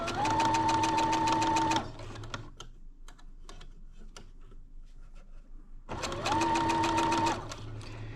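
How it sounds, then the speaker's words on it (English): A sewing machine stitches a quilt fabric square in two loud, steady bursts of rapid mechanical whirring, separated by a quieter stretch of clicks and handling noises. "So let's go over to the machine and I'll sew a square for you"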